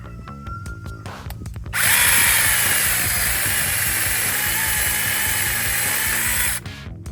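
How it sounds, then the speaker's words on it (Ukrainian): A battery-powered mini saw bites into hard, dry wood during autumn garden pruning: after a few small clicks, a loud, high, continuous buzzing cut runs for about five seconds, then stops abruptly. "Зараз, до речі, спробую ще на такому твердішому, сухішому дереві різати, як воно."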